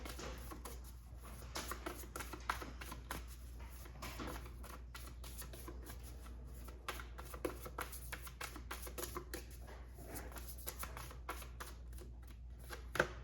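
Tarot cards are shuffled and handled during a reading, giving a close, soft run of riffling and papery snaps that continues steadily without a break, with no speech over it.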